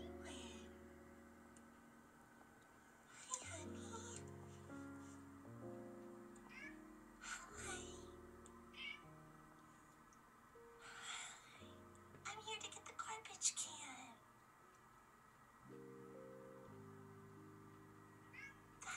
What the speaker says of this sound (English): I love this cat so much.